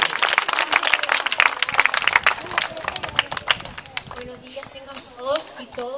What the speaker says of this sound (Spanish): quiero que la recibamos con un fuerte aplauso, pero fuerte aplauso